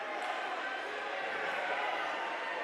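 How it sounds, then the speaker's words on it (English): Steady crowd buzz filling a high school basketball gym after a late referee whistle, a dense, constant murmur of many voices with no breaks. "You hear the buzz in this crowd"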